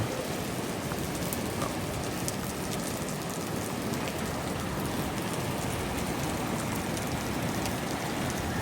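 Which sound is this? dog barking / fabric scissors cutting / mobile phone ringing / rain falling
rain falling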